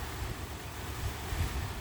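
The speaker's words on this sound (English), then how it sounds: "It's very windy" Wind buffets the microphone with a low, constant rumble, broad and blustery for the whole short stretch, with no voices.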